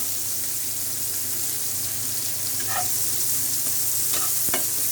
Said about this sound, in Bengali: এখন পেঁয়াজ দিয়ে দেবো। করলা ভাজিতে একটু পেঁয়াজ বেশি লাগে